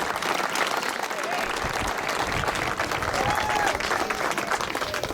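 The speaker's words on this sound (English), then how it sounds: "So, folks, one more time, a nice round of applause for Mr. Harold Hinckley." Applause rises from the audience at a 2019 Wiscasset Speedway Hall of Fame ceremony, a broad, sustained patter of many hands clapping, fairly loud and steady, with faint crowd murmur mixed in.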